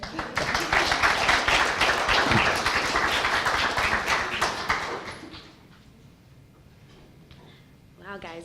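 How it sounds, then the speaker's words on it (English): Crowd at a First Friday event at The Cedars claps steadily for about five seconds, then the applause drops away to quiet room tone, with a voice starting to talk near the end. "Another round of applause for Scarlet and Layne."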